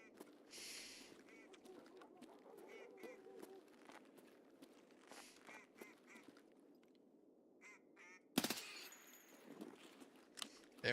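Quiet outdoor ambience in the Escape from Tarkov PVE game carries repeated faint duck quacks in short bursts, followed near the end by a sudden loud gunshot crack.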